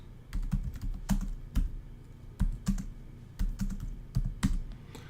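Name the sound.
typing on a computer keyboard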